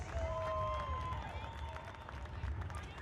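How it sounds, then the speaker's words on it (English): Crowd applause at a WFA Division 3 national championship women's football game, a steady wash of clapping and cheering throughout, with an announcer's voice speaking over it at the start. "Round of applause for a hard-fought championship game in championship seasons"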